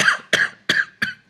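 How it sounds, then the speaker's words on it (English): A person coughs four times in a row, each a sharp, close, fairly loud burst followed by a short raspy tail, with brief pauses between them and no talking. "I'm going to cough now."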